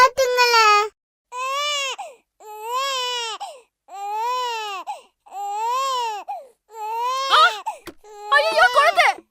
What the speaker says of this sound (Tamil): குழந்தை அழுகுதே, யாராச்சும் வாங்கலே.